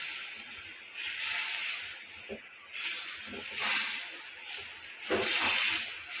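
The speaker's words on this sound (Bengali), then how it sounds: "আমার কিন্তু খুব ভালোভাবে মশলাটা কষানো হচ্ছে" Spices sizzle and hiss in a hot pan as they are sautéed, a steady close crackle with occasional stirring scrapes.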